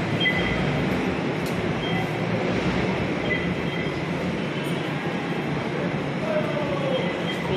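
An MRT/LRT train at a station platform gives a loud, steady rumbling roar close by, with faint metallic squeals toward the end and no clear speech.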